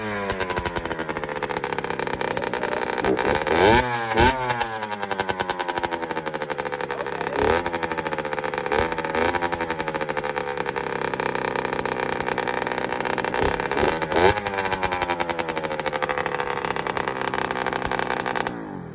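A Kawasaki KX60 dirt bike with a carburetor bolt leaking fuel runs steadily for about twenty seconds, its small two-stroke engine buzzing loud and close, with several sharp revs rising and falling over the constant drone.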